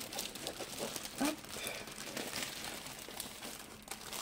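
A diamond painting kit package is unwrapped at close range, its plastic packaging crinkling and rustling in a steady stream with a sharper burst around the middle and a faint voice in the background.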